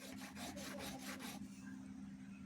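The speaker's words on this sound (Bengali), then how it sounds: "এখন আমি এখানে চন্দন আরেকটু বেটে নেব, সাদা চন্দন" White sandalwood is ground into paste on a stone in quick, rhythmic rubbing strokes, close and faint, about six gritty scrapes that stop after a second and a half.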